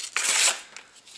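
A freshly sharpened blade slicing through fairly thick paper, one short, close, loud rasping cut lasting about half a second, followed by a fainter scrape.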